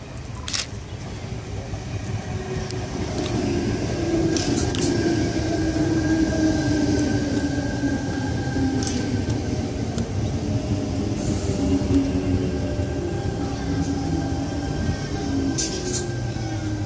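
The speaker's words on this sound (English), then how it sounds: "Arriving into platform number 1 here at Gymea, we have a Bondi Junction service." A Sydney train pulls into platform 1 at Gymea station on a Bondi Junction service, a steady loud rumble of wheels and carriages rolling in close by, with a faint high squeal drifting across the run.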